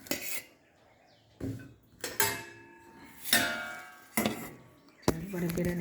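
Hot rice is served onto a Bengali lunch thali with a metal spoon, making several separate clinks and scrapes against the plate between quiet pauses, close and fairly sharp.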